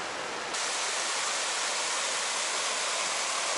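A small stream flows over stepping stones in a valley near Fox Glacier, New Zealand, making a steady, dense rush of water that is close and constant with no voices.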